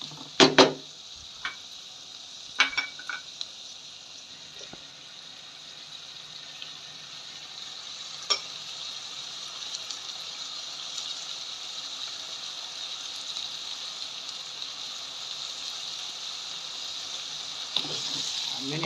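Spices with ginger paste stirred and fried in a pan: a steady sizzle throughout, with a few sharp scrapes and clinks of the spoon against the pan early on and near the end, no talking.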